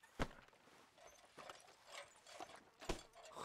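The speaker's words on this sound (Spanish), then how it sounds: "He escuchado los caballos y he pensado que pasaba algo" Horses clip-clopping in the El Rancho RP video game, with a few sharp hoof strikes spaced irregularly over a quiet background and no talking.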